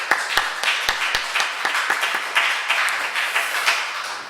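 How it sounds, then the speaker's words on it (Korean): Korean Sunday worship congregation at Gwanggyo church clapping in praise to God, a loud burst of many hands with a few sharp individual claps standing out, fairly close and uneven in rhythm, no speech over it. "이 시간 하나님께 영광의 박수 올려드리겠습니다."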